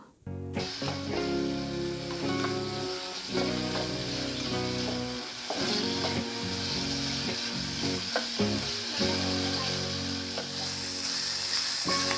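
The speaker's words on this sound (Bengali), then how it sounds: "এরপরে আমি মাংসগুলো খুব ভালো করে ব্রাউন কালার করে বেজে নেব" Meat frying in a pan until browned, an unbroken loud sizzle with occasional stirring knocks, heard close up under strong tonal background music and no talk.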